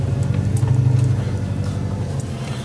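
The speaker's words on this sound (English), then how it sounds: "Big UPS freight truck goes out." A large UPS freight truck pulls away on a rainy city street, its engine a loud, steady low rumble that fades slightly over a few seconds amid traffic noise.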